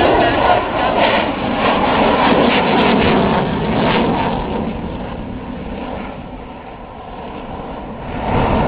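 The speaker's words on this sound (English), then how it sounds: "Now you see the F-16 climb 70 degrees up with the full engine power." F-16 fighter jet climbing steeply at full engine power during an airshow, a loud, sustained broadband roar that swells and fades slightly, heard from the crowd's distance with no clear talk.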